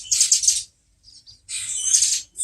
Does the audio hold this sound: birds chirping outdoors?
yes